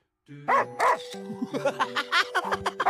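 Several dogs bark and yip in quick succession, loud and close, with sharp repeated bursts and some whimpering tones running throughout.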